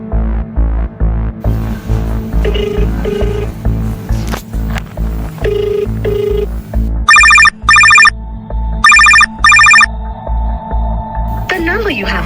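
Phone line tones after dialing a number that turns out to be busy: repeated short electronic beeps in regular bursts, loud and close, over a steady throbbing hum and recorded voice announcements.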